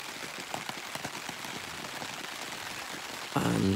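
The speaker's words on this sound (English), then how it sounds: "It's rained all night, so heavy. You can hear the rain now." Heavy rain falls at night on a bivy bag on the ground at a UK bushcraft camp, a steady dense patter close by, with a louder burst of nearby drumming at the very end.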